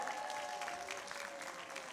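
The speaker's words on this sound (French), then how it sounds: "on peut les applaudir, s'il vous plaît, les coachs." Dense, steady applause from a crowd at a regional final of a seniors' gaming trophy at Toulouse Game Show, fairly soft and sustained throughout with no voices on top.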